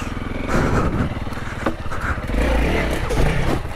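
Honda CRF300L dirt bike engine revving loud and close as it crosses an obstacle, with sharp throttle blips rising and falling over a steady rough mechanical roar.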